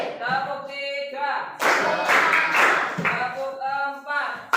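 A classroom group claps in rhythmic bursts during a teacher's clapping game, a few distinct sets of claps between stretches of a spoken voice.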